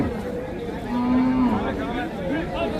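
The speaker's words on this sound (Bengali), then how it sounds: "মাংসের গরু" A cow lows loudly and close at a rural cattle market, one drawn-out moo followed by shorter calls, set against the murmur of the crowd.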